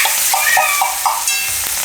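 Green chillies drop into hot oil already holding asafoetida, turmeric and coriander-cumin powder, a close, loud crackling sizzle with a few short bursts as the pieces land and get stirred.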